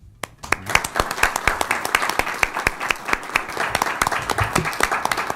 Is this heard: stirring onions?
no